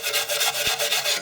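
A wire brush scrubs the back of a Mercedes rear brake backing plate in quick, regular rasping strokes, about eight of them, close and loud. A short low thump falls midway through.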